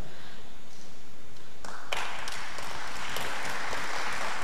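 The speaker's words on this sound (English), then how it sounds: "Yes, you need to applaud it" An audience at a public lecture breaks into applause, a dense burst of clapping that swells in suddenly and carries on loudly to the end.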